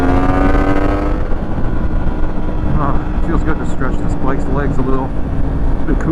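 A Yamaha MT-10 motorcycle engine drones steadily while riding on the street, loud and continuous with rising revs and heavy wind rush throughout; no one speaks.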